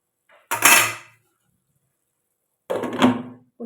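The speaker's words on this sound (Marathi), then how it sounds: "पुन्हा झाकून ठेवूया शिजवून देऊया आपण" A metal lid clatters onto a pot of green-chili cluster bean curry, two short clanks close by with a quiet pause between them.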